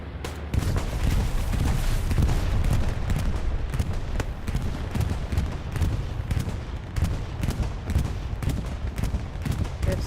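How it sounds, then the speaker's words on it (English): Bombing run explosions rumble through a Hell Let Loose match on the Mortain map, dense and continuous with sharp cracks and heavy booms layered over steady gunfire, loud and close for about ten seconds. "Strong bombing run there."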